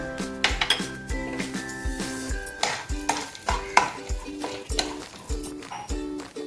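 Chopped nuts and almonds fry in hot ghee in a pan, a light sizzle under a steady series of metallic spoon clinks and scrapes against the pan, close up with no speech.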